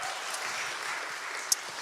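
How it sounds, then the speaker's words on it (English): A church audience claps in a brief burst of steady applause, with one sharper clap standing out near the end. "round of applause for Maddie."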